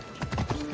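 Horse hooves in the video game Assassin's Creed Odyssey, a quick run of four or five rhythmic clip-clop beats at a galloping pace, close and fairly loud.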